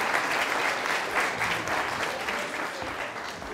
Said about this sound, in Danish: Skal vi lige give dem et klap